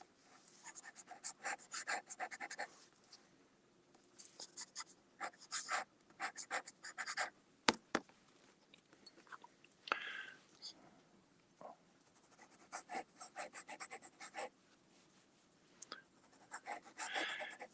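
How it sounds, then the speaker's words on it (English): A fountain pen nib scratches across paper in repeated short bursts of writing strokes, close and fairly quiet, with brief pauses between strokes and a sharp click near the middle. "does feel like it's scratching the paper though."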